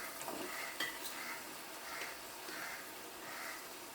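Chicken Chettinad being stirred in a pan over a high flame, a steady soft sizzle with a few scraping spoon strokes against the metal, fairly quiet and continuous.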